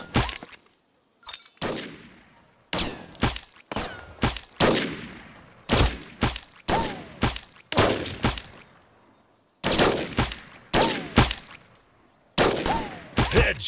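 Sniper rifle shots ring out in a mobile sniper shooting game, about fifteen loud, sharp cracks. They come in quick pairs and bursts, each with a short metallic tail and brief silences between.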